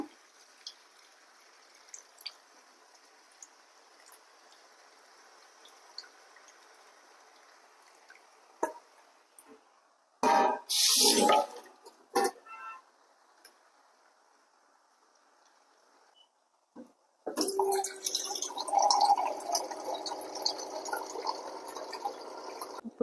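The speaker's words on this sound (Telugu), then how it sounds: "కొంచెం ఇందులో వాటర్ కూడా వేద్దాము" Water splashes and pours into a pot of fish curry with grated raw mango in a couple of bursts, with a longer steady pour near the end, all fairly close.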